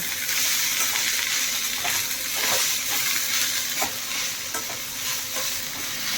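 Onion and coriander frying in a pan, a loud, close, continuous sizzle with regular scraping strokes of a spatula stirring through it, no one speaking.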